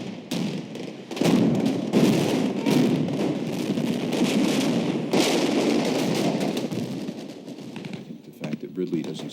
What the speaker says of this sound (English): everything starts blowing up